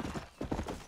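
A horse in the Red Dead Redemption game gallops in quick, rhythmic hoof beats, a brief close burst of thudding clip-clop.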